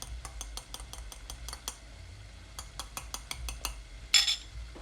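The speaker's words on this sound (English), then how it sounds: "First I am breaking the yolks and lightly beating the yolk and the white" Eggs lightly beaten in a bowl for vegetarian menemen, a fork or whisk clinking against the side in quick, even bursts of taps with a brief pause midway and a sharper clink near the end.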